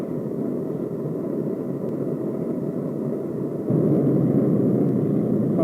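Steady aircraft engine roar at takeoff speed during a takeoff run, loud and continuous, growing slightly louder partway through with no voices.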